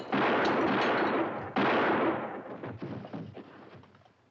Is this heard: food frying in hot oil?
no